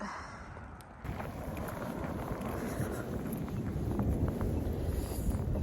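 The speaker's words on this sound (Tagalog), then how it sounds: "lakas ng hangin" Strong winter wind in a snowstorm in Edmonton, Canada roars steadily into the microphone, a loud, continuous low rumble of buffeting gusts that swells after the first second.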